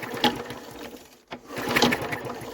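A Westwood Lawn Bug mower engine is pulled over by its pull-starter with the spark plug out, giving rapid mechanical whirring bursts with a short break partway, close and fairly loud.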